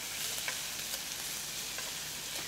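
Meat and peppercorns searing in a frying pan give off a soft, steady sizzle with a few faint clicks, quiet and continuous without speech.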